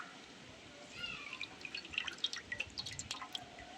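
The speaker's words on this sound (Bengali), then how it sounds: "তার জন্য সর্ষের জলটা আগে ফেলে দিচ্ছি।" Mustard seeds' soaking water poured off in a home kitchen while making mango kasundi, heard as a quiet series of close drips and small splashes trickling over a few seconds.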